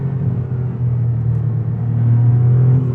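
A 2023 Maserati MC20 Cielo rolls along with a steady, loud low engine drone and road rumble from inside the cabin, swelling slightly toward the end.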